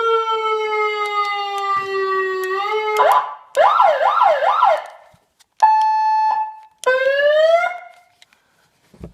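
A cheap $20 eBay siren unit cycles through several modes alone: a steady rising tone, a fast warbling yelp, a short flat blast and a final rising wail, each separated by brief silences.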